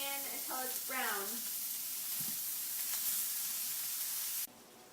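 Ground beef fries in a pan, a continuous bright sizzle running beneath a brief voice near the start before cutting off abruptly at the end.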